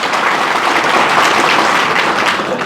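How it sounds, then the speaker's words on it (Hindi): A crowd claps loudly at a coaching institute event. Dense, sustained applause fills the room in an even, continuous roar of many hands. "तालियां बजाइए"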